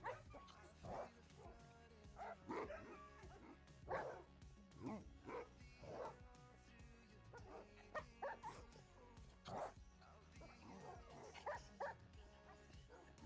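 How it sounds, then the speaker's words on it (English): Dog sounds from a camera, a series of short yips, barks and whimpers recurring every second or so at moderate loudness, with voices talking throughout. "You don't like there's dog sounds in the camera?"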